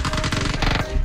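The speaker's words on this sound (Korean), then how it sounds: "총소리 총소리." Rapid automatic gunfire rattles out in a PUBG match, a quick burst of closely spaced, loud shots that stops shortly before the end.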